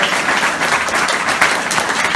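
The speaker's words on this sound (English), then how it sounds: "Does this deserve a huge applause?" Applause from a conference audience, steady broadband clapping that fills the short clip at close range and stays at an even level with no talk over it.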